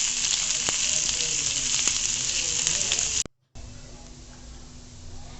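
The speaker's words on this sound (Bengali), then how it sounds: "এখন পেঁয়াজগুলিকে মিডিয়াম ফ্লেমে ভেজে নেব" Chopped onions fry in oil on a medium flame for a Bengali rui fish bharta, a steady loud sizzle with faint utensil ticks, broken by a brief cut before the frying resumes.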